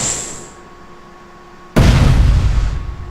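In Space Engineers, a rocket launches and detonates: a quiet whoosh trails off, then a sudden loud blast hits and rumbles on with a heavy, decaying roar.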